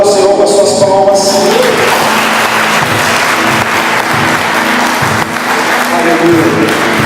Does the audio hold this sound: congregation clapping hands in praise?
yes